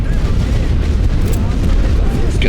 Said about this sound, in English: Let's finish these off with a good lump of artillery.